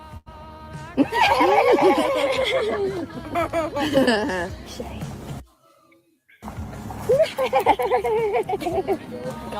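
A man imitates a horse's neigh with his voice, giving whinnying, wavering calls over several seconds, then a brief pause and another burst. Nearby people chuckle and talk.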